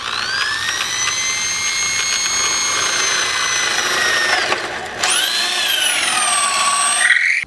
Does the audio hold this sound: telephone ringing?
no